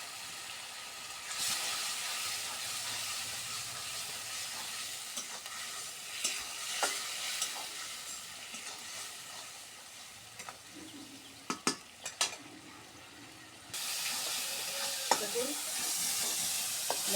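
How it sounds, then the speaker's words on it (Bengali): Turmeric, cumin, salt and chili sauté in oil in a pan, a continuous quiet sizzle broken by scattered spoon scrapes and clicks, swelling louder near the end. A single word is spoken briefly. "মশলাগুলা সুন্দর করে কষে নিচ্ছি, তেল ছাড়ে গেছে"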